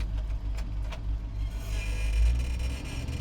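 A 1968 C50 ramp truck rolls slowly around a yard, its low-geared engine giving a steady, close rumble that swells a little toward the end, with no voices.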